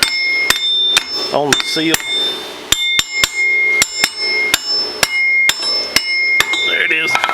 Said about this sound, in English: Sometimes you have to tap it on with a hammer because it's pretty tight tolerant